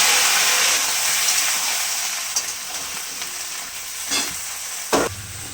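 Vegetables for spinach chorchori fry in a pan with dried chilli and radhuni, making a loud, even sizzle broken by a few sharp stirring scrapes and knocks.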